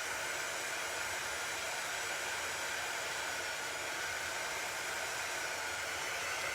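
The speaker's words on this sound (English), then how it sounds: "It really is just there to blow air around and dry off either the ink or the paste that we're working with." A small heat-gun-style air blower, used to dry ink or paste in a chalk craft project, roars loud and steady up close, a continuous even whoosh with no breaks.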